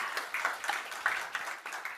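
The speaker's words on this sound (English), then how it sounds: "A warm applause for your own" Audience clapping for a speaker coming on stage at a business budget event, heard as a brief, fairly faint patter of applause from a small crowd.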